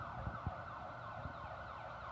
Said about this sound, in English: It was an ambulance, so someone's probably dying, but like, keep it down.